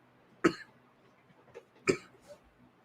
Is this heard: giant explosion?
no